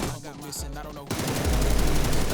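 Rapid automatic gunfire in a first-person shooter video game, a loud fast burst of shots following a brief spoken exclamation.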